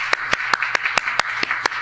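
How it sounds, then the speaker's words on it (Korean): Congregation at a Friday night church service clapping in welcome to visiting students, a crisp, regular beat of about nine sharp claps at an even pace, close and clear with no voices over it. "우리 조지아 팀, 우리 인도 우리 학생들 힘찬 박수로 축복해 줄까요?"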